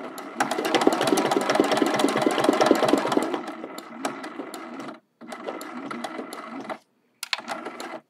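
Close sewing machine stitching on a quilted watering can mug rug, a long continuous run followed by short bursts broken by brief pauses.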